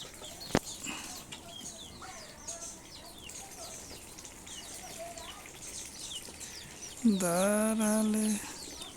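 Chickens and young chicks, including fighter and local breeds kept together with ducks, cheep and cluck in a farm yard, with a sharp tap early on and a loud, drawn-out hen squawk near the end.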